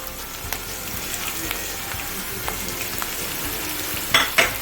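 Onions frying in a pan while a cook makes yogurt paneer curry, giving a steady soft sizzle with occasional stirring scrapes and two sharper clatters near the end, no talking.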